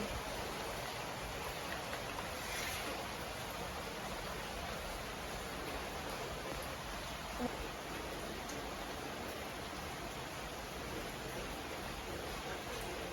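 Heavy typhoon rain falls in a dense, unbroken hiss that stays even and fairly faint throughout, with no voices or other distinct sounds.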